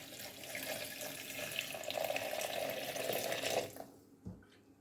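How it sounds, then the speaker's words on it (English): Water pours steadily into a blender jar holding sliced onions for several seconds, a continuous close splashing stream that stops abruptly, followed by a small knock. "And I'll add on water."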